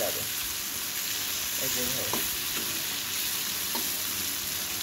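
Tengra fish fry in hot oil with brinjal alongside, giving a steady loud sizzle with occasional stirring clinks, while a voice speaks briefly over the crackle.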